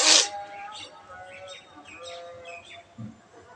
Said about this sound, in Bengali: তো মনে হয় শালিক পাখি ডাকছে।